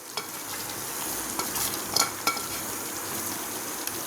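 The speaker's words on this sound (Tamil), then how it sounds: "பாருங்க இது நல்லா கொதிக்கிட்டே இருக்குது." A thick mutton masala bubbles and sizzles steadily in a pan while a spoon stirs and scrapes now and then, close up.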